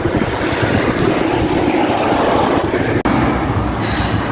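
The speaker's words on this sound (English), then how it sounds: "There's a lot of wind here." Strong wind buffeting a microphone on a motorcycle road trip on the Isle of Wight, a loud continuous roaring rumble with one brief dropout.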